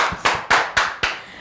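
Five sharp, evenly spaced hand claps ring out in quick succession from an audience at a Kikuyu-language fan show, each a crisp, close slap with no talking.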